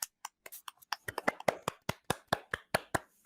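A small round of applause with a few hands clapping in an uneven rhythm, about twenty sharp claps over a few seconds, close and fairly quiet, with no voices.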